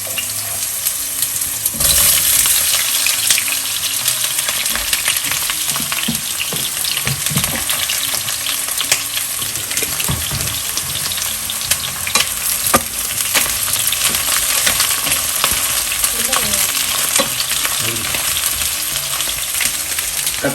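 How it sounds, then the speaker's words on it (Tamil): Eggplant sautéing in hot oil in a pan for a kara kulambu, a dense continuous sizzle with scattered stirring clatter, steady and close, no talking. "கத்திரிக்காவை நல்லா வதக்கி எடுத்துடலாம்"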